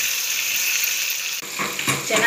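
Tomato and spices fry in a pan for tarka, giving a loud, steady sizzle up close. Clinks and scrapes of stirring come through near the end.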